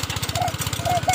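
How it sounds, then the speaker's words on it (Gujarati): A farm tractor engine runs close by with a steady rapid low thumping pulse, while people talk over it. "એને ટ્રેક્ટર હાકે છે"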